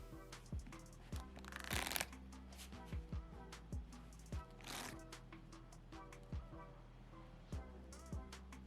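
A deck of playing cards being false table shuffled by hand, with repeated soft riffling bursts and crisp squaring taps in a quiet setting, close and fairly faint.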